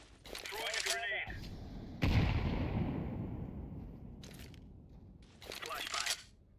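A grenade thrown and exploding in a tactical shooter video game: a sharp, loud blast whose rumble decays over several seconds, framed by bursts of gunfire and brief radio-style voice callouts.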